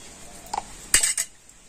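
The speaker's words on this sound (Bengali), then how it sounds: "বেকিং পাউডারটা দিয়ে ব্যাটারটা আবার আমি ভালো করে মিশিয়ে নেব" A spoon mixes baking powder into semolina batter in a bowl, giving a few faint, brief metallic clinks against the bowl in a quiet room.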